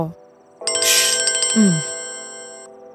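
An electronic phone ringtone chimes in a bright, repeating melody, close and loud, while a voice speaks briefly over it.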